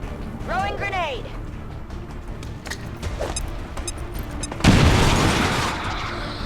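A frag grenade in XCOM 2 goes off as a sudden loud, rumbling blast that decays over a couple of seconds, following earlier softer game effects, with someone talking over it.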